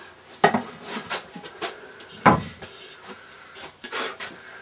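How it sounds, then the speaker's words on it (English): A pottery bowl is dipped into a bucket of glaze and sloshed around, giving a few wet clunks and splashy knocks at irregular intervals, close and moderately loud, with no talking. "Slosh it around the outside there, pull it straight up, let it drain"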